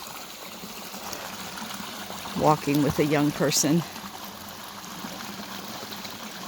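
Creek water flows and trickles in a continuous soft wash throughout, with a person speaking briefly over it in the middle.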